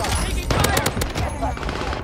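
Rapid automatic gunfire from a PPSh-41 in Warzone, dense sharp bursts crackling close and loud with a brief lull, while a voice talks over the shooting.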